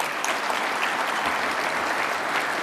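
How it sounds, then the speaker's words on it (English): A big round of applause fills a banquet hall at an association awards dinner, dense steady clapping from a large seated crowd that holds at an even loudness throughout, with no voices standing out. "Big round of applause."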